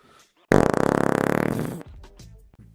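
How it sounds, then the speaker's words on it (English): A loud, long sputtering fart sound effect sounds out, a rapid buzzing flutter lasting about a second and a half that tails off into quieter rumbles. "He let out a fart ever so loud."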